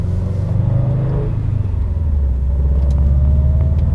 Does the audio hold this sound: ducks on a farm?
no